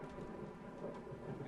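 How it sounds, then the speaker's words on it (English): A thunderstorm in the video game Fallout 4 rumbles as a steady wash of rain with low thunder underneath, continuous and moderately loud with no talking. "Maybe a storm."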